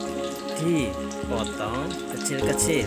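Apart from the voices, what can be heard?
dried stingray fish frying in hot oil in a wok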